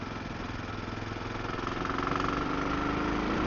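An SWM Superdual T motorcycle's single engine revs in third gear on a test ride, a buzzy, pulsing drone that rises in pitch and grows louder, heard close up with wind noise.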